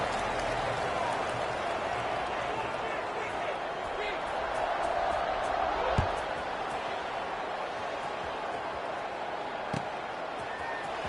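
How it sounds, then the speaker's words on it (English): A packed college football stadium crowd keeps up a steady, dense roar during a timeout before a kickoff, loud and continuous with occasional thumps, while a commentator talks over it. "this crowd is buzzing after that last score"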